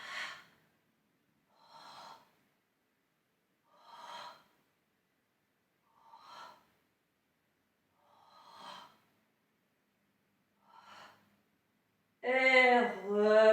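Slow, controlled breaths during a Pilates twisting exercise: six soft, evenly spaced puffs about two seconds apart, close and alone, followed by a voice speaking at the end.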